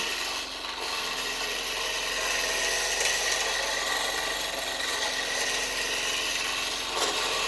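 A wood lathe turns a piece of wood while a tool shaves a little off at a time, giving a continuous close scraping hiss over a steady motor hum.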